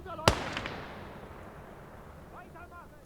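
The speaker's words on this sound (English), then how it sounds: "Mortars found him." A single sharp, loud mortar shell blast in the World War II strategy game Gates of Hell, followed by a fading rumble, with a voice faintly audible near the end.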